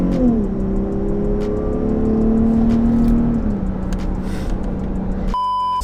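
A Jeep Grand Cherokee with a K&N intake accelerating in sport mode, its engine note climbing and shifting through gears in a steady, close cabin drone.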